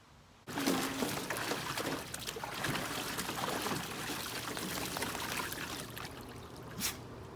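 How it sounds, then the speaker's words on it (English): Water pours and splashes steadily over a dog after a quiet start, a continuous close-up gush that runs on without pause. "That's our shower for today. Stinky dog shower."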